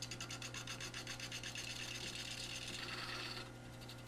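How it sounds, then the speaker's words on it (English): A 3/8 inch bowl gouge roughs out the outside of a 10-inch by 4-inch ash blank spinning on a lathe, giving a steady, close rasping scrape with rapid rhythmic ticks, easing slightly near the end. "Here I'm starting just to rough out the outside using a 3/8 inch bowl gouge."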